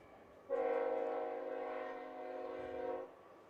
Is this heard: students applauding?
no